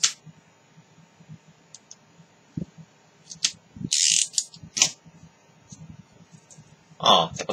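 A utility cutter's blade ratcheting out in short clicks while a cigarette is taken apart, sparse sharp clicks and a brief burst of rattling near the end over quiet background.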